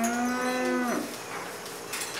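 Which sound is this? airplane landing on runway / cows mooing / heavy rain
cows mooing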